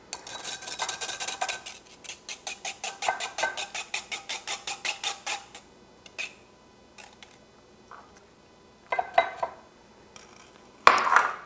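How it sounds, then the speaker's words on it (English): Egg wash strained through a metal strainer in a kitchen: a quick, regular run of light metallic clinks and taps, then scattered sparser clatters and a sharper knock at the end. "So I strain my egg wash."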